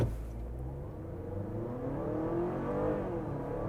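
A 2023 Honda Accord Hybrid pulling away without launch control, a smooth, low engine and motor hum rising gradually in pitch as it accelerates, fairly quiet and steady with no voices.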